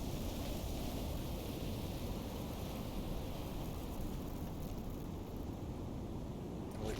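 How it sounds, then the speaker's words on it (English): A video-game storm in Unearthed: Research blows as dense, steady broadband rain and wind noise, constant and fairly loud throughout without a break, no voices over it. "it looks like the storm's weak enough that we can go out in it"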